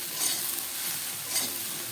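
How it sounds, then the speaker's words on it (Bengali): Soybean chunks fry in hot oil in a wok while being stirred, giving a steady soft sizzle with two light scraping strokes. The sound is quiet, with no voices. "তো চলো এগুলো লাল করে ভেজে নিই"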